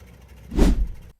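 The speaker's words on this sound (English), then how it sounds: "The Jacobs R755-9 comes to life for its first start fitted with a test club propeller" A Jacobs R755-9 radial aircraft engine with a test club propeller starts up, a single loud, deep burst that catches and then cuts off abruptly.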